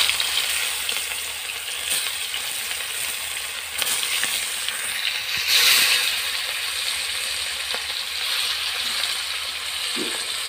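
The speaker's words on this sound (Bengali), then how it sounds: "এবার এক এক করে মাছ ভেজে নেব।" Pieces of rohu fish fry in hot oil in a wok, a constant close crackling sizzle with occasional sharper pops and light clinks, no voices over it.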